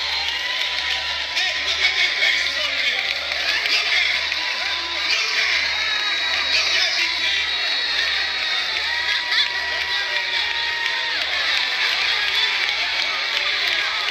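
A large crowd in a replayed recording cheers and shouts in a continuous roar, with a pulsing low thump beneath and voices mixed in over it.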